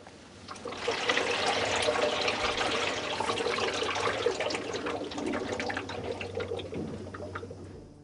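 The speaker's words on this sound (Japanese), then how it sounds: "この音は脱水時のバランスを取るためにバランスリング内に入れてある水の音です。" Water sloshes and swishes inside the balance ring of a Hitachi BD-S7500 drum washing machine as the drum is moved, a continuous trickling, liquid churn lasting several seconds.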